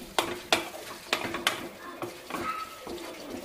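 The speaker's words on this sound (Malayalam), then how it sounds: "കറിവേപ്പിലയും ചുവന്നുള്ളി ആ വെളിച്ചെണ്ണയിൽ കിടന്ന് ലൈറ്റായിട്ട് മൂക്കണതിൻ്റെ ഒരു ഫ്ലേവർ" Curry leaves and shallots fry in coconut oil for a Kerala-style chicken perattu, a close, light sizzle under repeated scraping and clinking of a spoon against the pan.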